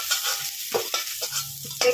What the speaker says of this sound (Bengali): কাঁচকলা বেশি ভাজতে নেই, আমি এইভাবেই ভেজে তুলে নিলাম